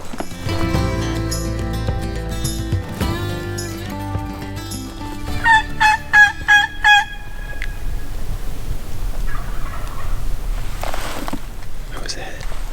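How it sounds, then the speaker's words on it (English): Wild turkeys gobble during a Texas spring turkey hunt, a quick burst of several gobbling notes standing out mid-clip amid outdoor noise and other bird calls, with hunters talking quietly before and after. "There's a turkey."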